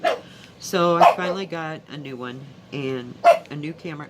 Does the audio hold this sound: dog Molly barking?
yes